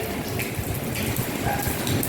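Light rain falls outdoors in Hong Kong during a typhoon signal 8, a soft, steady patter of drops with a faint wash of wind, fairly quiet and without talk.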